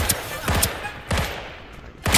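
A turret in Deceive Inc fires loud, rapid bursts of automatic gunfire, several clusters of shots separated by short gaps.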